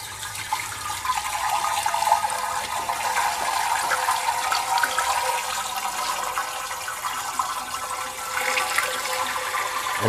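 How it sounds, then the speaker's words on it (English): Steady rushing water pours and splashes continuously into sugar for the whole stretch, loud and close, with no voices. "We'll add the water with the sugar."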